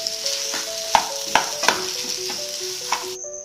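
Spiced potato stuffing for aloo kachori fries in a pan while a spoon stirs and knocks against the metal, several distinct clacks over a low sizzle, close up with no talking.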